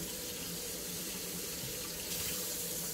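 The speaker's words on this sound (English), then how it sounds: "So right now I am washing my sweet potatoes." Kitchen tap running steadily over sweet potatoes being washed in a sink, an even, close hiss of water with no speech.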